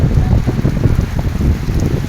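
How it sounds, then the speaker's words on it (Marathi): Heavy rain and strong gusting wind during an evening storm in the western part of a taluka in Indapur, sounding as a loud, dense, steady roar of rain with wind buffeting throughout. "अक्षरशः सोसाट्याचा वारा आणि पावसाने थैमान घातलेले आहे"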